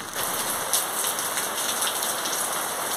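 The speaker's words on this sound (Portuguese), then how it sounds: "tá chovendo." Steady rain patters on a rural farm property, a dense close hiss of drops hitting surfaces with scattered brighter taps, continuous and without voices.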